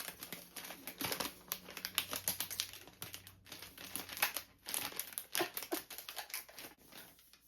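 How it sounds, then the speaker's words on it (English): A wrapped book is unwrapped with busy, close paper crinkling and rustling in rapid bursts, plus a few tearing crackles, and nobody speaks. "So we're going to unwrap it and find out."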